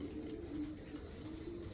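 Tippler pigeons cooing softly in a loft, low murmuring calls repeating steadily at a faint, close level with no talking.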